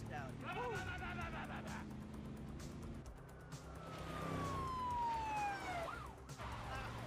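A police car siren in the video game GTA V sweeps and wails during a chase, mixed with engine rumble and game effects, while a person talks over it.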